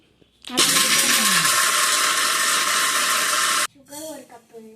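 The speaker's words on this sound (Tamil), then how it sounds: "திரும்பி மிக்ஸி." A loud mixer grinder whirs steadily for about three seconds, then cuts off abruptly, followed by a short bit of talking.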